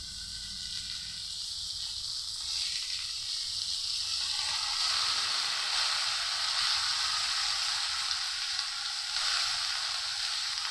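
Chopped, washed cabbage hits a pan of fish heads frying in oil and bursts into a loud, dense, continuous sizzling hiss that swells and holds steady throughout, close up with no talk.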